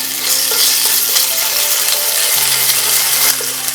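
Ginger paste fries loudly in hot oil with peppercorns and bay leaf, a dense, close, steady sizzle with light stirring scrapes throughout.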